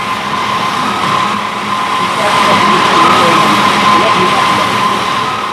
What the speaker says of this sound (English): The diamond wire saw will cut this huge block in just 30 hours.